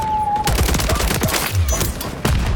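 Rapid gunfire from a Modern Warfare 3 multiplayer match crackles in dense overlapping bursts, loud and close, with shots coming from several teammates at once.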